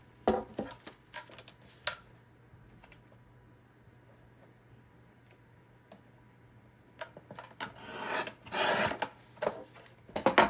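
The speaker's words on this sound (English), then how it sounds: "Let me find my trimmer so I can actually trim this down." A paper trimmer slices scrap paper for embellished, bound journal pages, giving short rasping strokes in two clusters, a few quick passes early on, then a louder run of scraping cuts after a quiet stretch.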